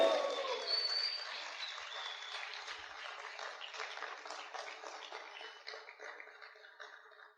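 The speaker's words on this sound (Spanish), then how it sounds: "¿Cuántos pueden gritar y aplaudir fuerte al Rey?" A church congregation claps and calls out at a service, the applause and shouts fairly faint and distant and fading slowly over several seconds.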